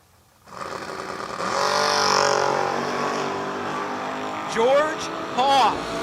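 Drag race cars launching, including a first-generation Chevrolet Camaro, roar loudly and steadily at close range, with sharp rising engine sweeps near the end as they pull away.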